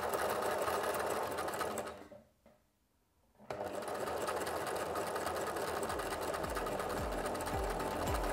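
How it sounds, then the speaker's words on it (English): A sewing machine zigzag stitching stretch fabric runs steadily and loudly with a rapid mechanical whir, stopping for about a second before starting up again and continuing evenly, with no voices. "Be careful not to stretch the fabric while sewing."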